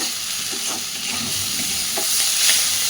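Flat beans and coriander leaves sizzle in a pan as they are stirred, with steady frying hiss and occasional scraping strokes, close up and uninterrupted by voices.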